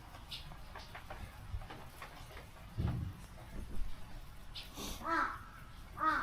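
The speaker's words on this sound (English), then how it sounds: "crows are so cool" Several crows caw in bursts from a little way off along a hiking route in Aomori Prefecture, Japan, their harsh calls scattered over faint outdoor background noise.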